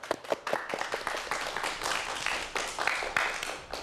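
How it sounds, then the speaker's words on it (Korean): An audience at a televised science lecture on aging claps steadily, with a dense burst of close hand claps that continues for several seconds. "박수 다시 한번 부탁드릴게요."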